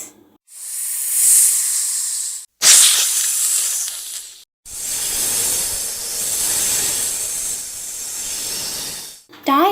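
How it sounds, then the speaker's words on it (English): A snake gives three long, steady hisses of breathy noise, loud and close, separated by brief silences. "Hiss,"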